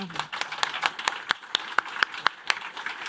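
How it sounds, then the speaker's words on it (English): Audience applauding a panel at the close of a keynote session at Arendalsuka, scattered individual claps at moderate volume, fairly sparse and uneven rather than a dense ovation. "we give the panel a big applause"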